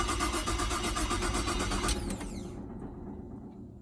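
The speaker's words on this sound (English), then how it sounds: "She keeps cranking." A Holden Commodore VZ with an ignition fault cranks without starting: a steady, fast, rhythmic whirring churn for about two seconds, then it cuts off and fades to quiet. Close and fairly loud, with no talking.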